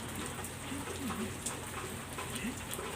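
Steady rainfall patters continuously, a dense wash of drops close by with faint background sounds.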